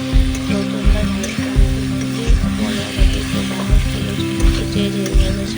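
Fried potatoes and okra stir-fry in spice paste in a pan, loud sizzling broken by regular rhythmic scraping strokes of a spatula about once every half second, close up.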